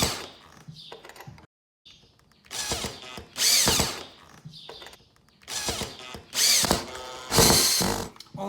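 A cordless drill drives screws through an angle bracket into a window frame, in several loud whirring bursts of a few seconds each separated by short pauses and faint handling clicks.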